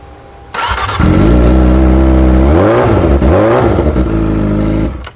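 A motorcycle engine starts and revs loudly up close, with a sudden start followed by steady rising and falling throttle swells that hold for several seconds before cutting off, with no talking over it.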